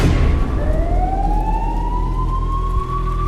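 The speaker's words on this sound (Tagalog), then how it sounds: "Pero may pulis, may ambulansya." Emergency sirens wail continuously, rising in pitch and sweeping through overlapping tones, suggesting police and ambulance vehicles together, loud and close with a steady low rumble of traffic underneath and no talk.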